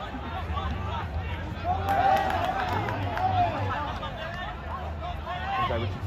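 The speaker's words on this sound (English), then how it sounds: "Wow, quite a crowd for this game." Crowd of spectators at a State Cup Oztag quarterfinal between Inner West and St George, a steady babble of many voices with brief rises of cheering around the field.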